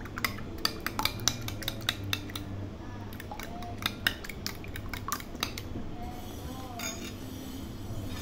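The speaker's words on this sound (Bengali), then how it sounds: "প্রথমে একটা বাটিতে নিয়ে নিয়েছি 2টা ডিম। এখন দিয়ে দেবো লবণ, দিয়ে ভালোভাবে গুলিয়ে নিতে হবে।" Two eggs with salt being beaten in a bowl, a rapid run of sharp clinking utensil strikes against the bowl's side, close and steady with brief pauses.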